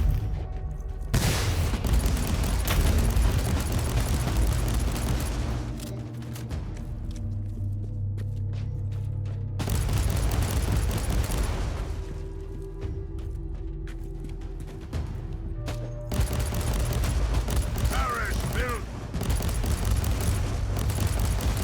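Dense, continuous gunfire and booming weapon blasts from the Warhammer 40,000: Inquisitor – Martyr video game, loud and close, rolling in heavy waves with short lulls between bursts.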